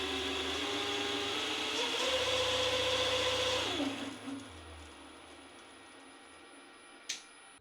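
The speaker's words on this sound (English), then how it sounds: "And even the spindle servo has come to life." A DIY CNC metal lathe's spindle servo whirs with a steady tonal hum that rises in pitch, then winds down and stops around the midpoint, followed by quiet and a single sharp click.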